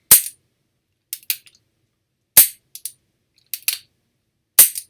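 Single-action revolver mechanism worked dry, sharp metallic clicks of the hammer cocking and trigger releasing, arriving in close, loud clusters of two or three separated by silence.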